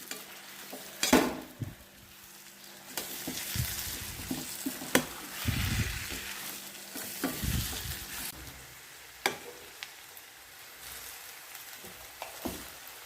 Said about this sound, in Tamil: எண்ணெயில் போட்டு வதக்கணும் இல்லையா, அதனால் இப்படி கிண்டணும்.